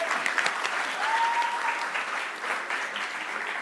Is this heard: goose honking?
no